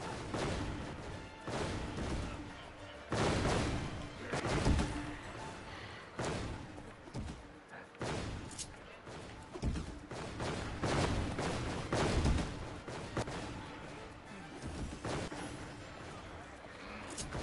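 Cartoon bombs going off in Final Fantasy XIV during the Moonfire Faire event, a run of irregular thumps and bursts, moderately loud, repeating through the clip with a person talking between and over them.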